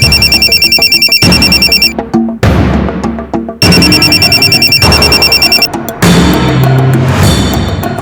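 A loud electronic ringtone trills in repeated bursts with short gaps, a bright tinny ringing pattern that plays on and on.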